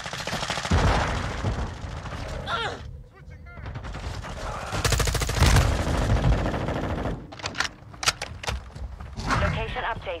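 Video game gunfire rattles in rapid automatic bursts with heavy thumping shots, loud and close, broken by brief lulls, with someone talking over the action.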